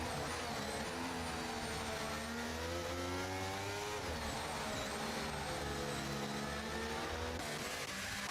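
Formula 1 race cars at Silverstone in a racing video game, engines screaming at high revs with steady overlapping whine and gear-shift pitch sweeps, loud and continuous.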